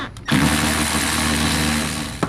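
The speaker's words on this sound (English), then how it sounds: "So I'm gonna unscrew these Torx 40 bolts." A powered driver whirs steadily for about two seconds, unscrewing Torx 40 bolts on the shift box of a 2002-2006 MINI Cooper S, with a short click as it starts and another as it stops.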